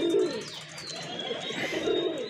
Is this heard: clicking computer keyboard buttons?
no